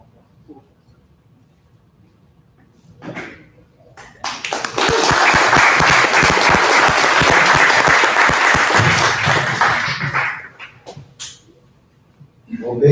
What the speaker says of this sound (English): Well, big round of applause for that already happened.